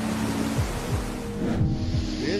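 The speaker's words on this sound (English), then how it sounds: "This is what happens when a river slightly overflows its banks." Flash-flood water from a river spilling over its banks rushes in a constant, heavy roar, broad and turbulent, with occasional low rumbles beneath the surging flow.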